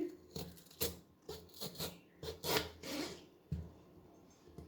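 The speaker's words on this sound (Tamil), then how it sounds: "கொஞ்சம் நல்ல தடிமனாக நம்ம கட் பண்ணணுங்க." A knife slices a potato into thick fries on a board, making a series of close, quiet, rasping cuts at an uneven rhythm, roughly a dozen strokes.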